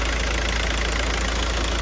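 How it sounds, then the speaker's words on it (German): A VW group car engine idles steadily after its tandem pump has been resealed, a dense, constant mechanical hum with a faint knocking texture, close and loud with no talk. "Wichtig ist immer, dass ihr den Motor laufen lässt, auf jeden Fall immer."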